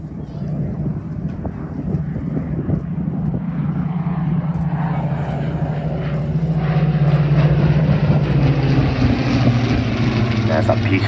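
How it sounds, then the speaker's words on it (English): Merlin and Griffon piston engines of a Hurricane and Spitfire roar past at an airshow, a deep propeller drone rising and swelling as the fighters approach, with crowd noise and speech underneath. "There's that beautiful sound of the Merlin and the Griffin engines of our Hurricane and Spitfire today."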